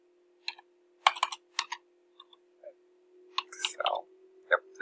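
Intermittent clicking of computer keyboard keys in short bursts, close and fairly quiet, typing a web search, with no talking.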